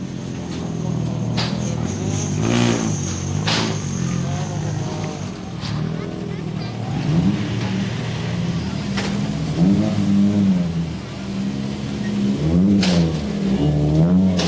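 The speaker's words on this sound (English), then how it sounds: "Another of the R5 cars just making their way over the ramp." R5 rally car engines revving at the start ramp of the Donegal International Rally, loud rising and falling revs over a steady engine drone, with a commentator talking over them throughout.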